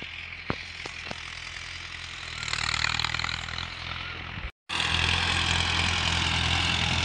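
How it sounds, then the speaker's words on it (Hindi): A tractor engine with a land leveling machine mounted on it runs steadily in a farm field, a loud continuous rumble that briefly cuts out and then resumes. "ये आ चुका है हमारे सामने ट्रैक्टर"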